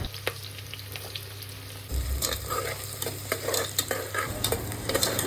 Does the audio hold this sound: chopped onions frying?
yes